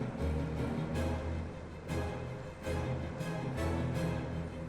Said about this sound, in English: That's a lawnmower